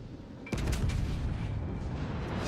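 A deep battleship gun boom from World of Warships: Legends, IJN Kongo, hits suddenly and rolls into a sustained low rumble of distant fire and impacts.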